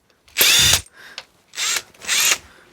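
A chrome socket spinning off a bolt on an Ariel Arrow motorcycle, heard as four loud, close bursts of whirring tool noise separated by short pauses, with no talking.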